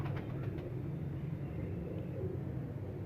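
Breeder pigeons at a friend's home loft coo in a low, steady, rumbling murmur that carries on for a few seconds, close and moderately quiet, with no talking.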